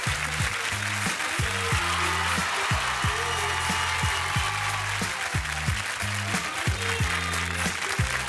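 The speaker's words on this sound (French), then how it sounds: "On applaudit, on va vous offrir un petit cadeau." Audience applauding dancers on a television set, with fast, rhythmic clapping that sounds partly in unison, loud and steady throughout, under a backing music track.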